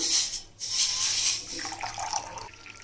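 Hot water is poured from a kettle into a cup for a chia seed drink, a close, hissing stream that briefly breaks, then resumes more softly and trails off.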